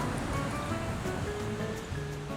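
Ocean waves wash ashore at a beach in Puerto Vallarta, Mexico, a continuous close rushing surf filling the short stretch with no voices.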